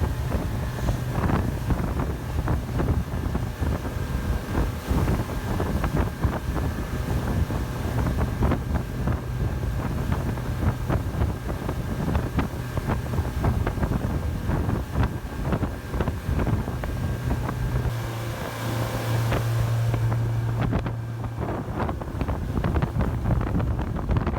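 A boat cruising on open water near Al Dar Island with steady wind buffeting the microphone, engine rumble and water rush continuous and fairly loud throughout, no voices.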